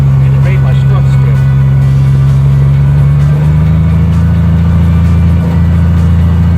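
A 1997 Honda Goldwing GL1500 Aspencade engine hums loud and steady under throttle, a continuous low drone with a slight shift in pitch midway, hard to tell whether it is stumbling.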